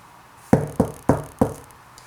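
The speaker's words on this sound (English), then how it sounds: "Along came a wicked wolf and knocked on the door." Four firm knocks on a wooden door as a storybook sound effect, evenly spaced, close and clear, each with a short ringing decay, no voices.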